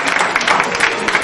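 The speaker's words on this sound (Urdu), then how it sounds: "قاسمی صاحب کے لیے بھرپور تالیاں" A gathering applauds Zia Ul Haq Qasmi, a loud, close, dense patter of many hands clapping at once, steady and unbroken through the short burst.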